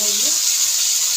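A pan of food fries with a steady, close hiss that holds level throughout, with a brief tonal hum at the very start.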